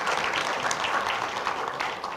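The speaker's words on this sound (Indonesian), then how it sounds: "kita beri tepuk tangan untuk kebaikan Tuhan" Continuous applause from a church congregation, many hands clapping at once in a full, steady wash of sound, with no talking over it.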